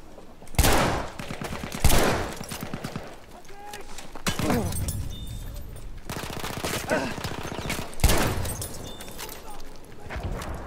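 Shotgun and other gunfire in a Battlefield 1 match, several loud blasts spaced a few seconds apart over continuous rattling battle noise, with voices underneath.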